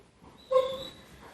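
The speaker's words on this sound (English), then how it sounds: "Sorry, I've got some dogs playing in the background." A short whimpering yelp from dogs playing rises faintly in the background of a quiet room, a single brief cry with no talk.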